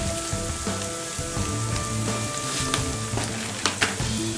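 Onions sizzle loudly and continuously as they brown in a pan, a dense crackling hiss up close with a few sharper pops and some low background hum.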